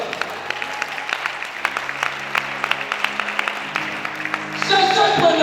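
A church congregation claps during a revival service, scattered hand claps that build into denser applause and cheering toward the end.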